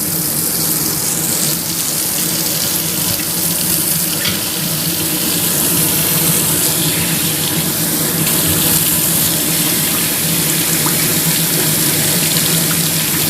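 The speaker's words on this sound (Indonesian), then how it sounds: "Ini kerannya diputer ke air panas." Hot water pours continuously from a turned-on tap, a loud, steady gushing splash close by that holds without pause, with no talking.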